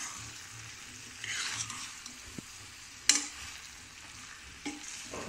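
A chicken curry (kulambu) is stirred in a pan over a soft sizzle of frying, with a few scraping strokes and brief clinks of the spoon against the metal, close and moderately quiet.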